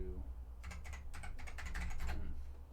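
Rapid clatter of typing on a new computer keyboard, a quick run of close keystrokes with a quiet hum beneath and a voice briefly at the start.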